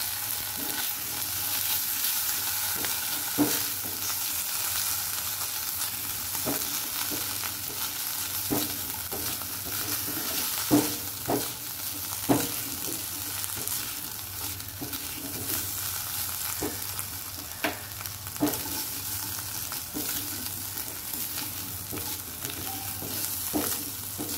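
Curry frying in a pot after a ginger and cumin paste goes in: a steady sizzle with scattered scraping stir strokes against the pan, fairly close, with no voices.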